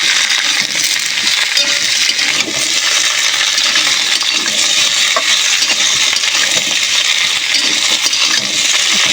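Chopped green beans tossed into potatoes half-fried in oil in a pan, giving a loud, steady sizzle with stirring scrapes, close up and continuous throughout.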